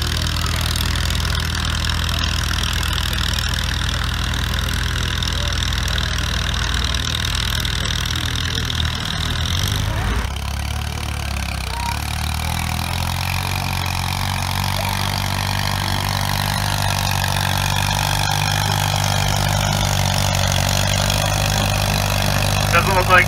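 A tractor engine labors steadily while pulling a weighted sled at a tractor pull, a continuous loud drone with a shift in tone partway through, under a commentator's speech.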